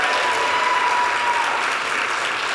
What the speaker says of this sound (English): I didn't expect that applause